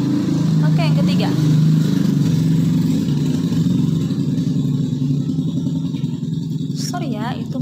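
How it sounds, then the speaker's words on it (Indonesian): A motorcycle with a loud exhaust rumbles past outside, a steady low engine drone running under a person talking throughout. "itu motor. Knalpotnya bunyinya besar sekali."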